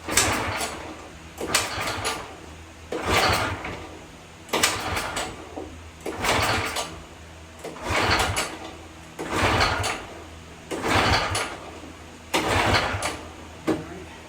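A 1950s–60s Craftsman lawn tractor engine is cranked repeatedly, with about eight loud bursts of starter grinding and sputtering at a steady rhythm, separated by brief pauses, close to the microphone.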